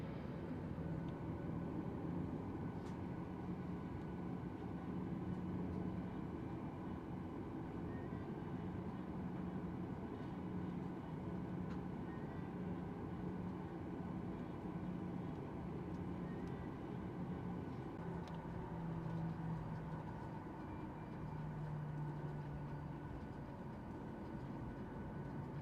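Steady low engine and air-conditioning hum inside the economy cabin of a Virgin Australia Boeing 737-800 before takeoff, continuous and even with faint rattles and no speech.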